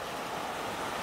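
Sea waves beside Yongduam, the Dragon Head Rock on Jeju's coast, make a steady, broad wash of surf mixed with wind rumble, continuous and unbroken with no voices.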